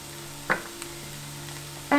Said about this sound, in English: And now we're just gonna mix that up.